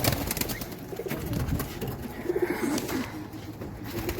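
A local Deshi pigeon kept in a cage coos nearby in low, rolling bursts, with a few soft rustles and handling noises around the calls.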